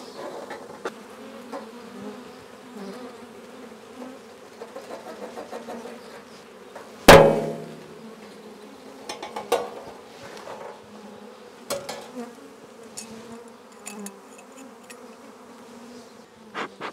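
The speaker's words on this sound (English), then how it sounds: "There we go, tray of bees." Honey bees shaken into a tray for a sugar-shake Varroa mite count give a steady close buzzing drone throughout, with one sharp knock as they drop in around the middle and a few lighter taps after.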